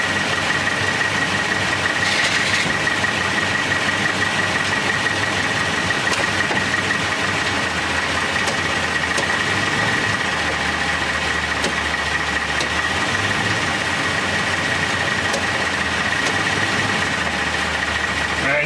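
The engine of a 2018 Toyota Tundra idles steadily, a continuous close mechanical hum with a faint whine. The low tone shifts slightly a few times as the transmission is run through its gears, and there is no clear talk.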